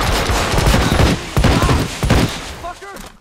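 Gunfire from the Hitman: Absolution video game, with loud, rapid bursts of shots crowding together for most of the moment, then fading out into a few short, high electronic chirps.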